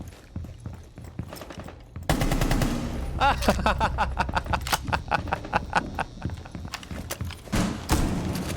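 Rapid bursts of gunfire and sharp shots in Rainbow Six Siege, fired at a breaching charge on a wall, loud and close, starting abruptly after a quieter stretch and continuing in irregular volleys.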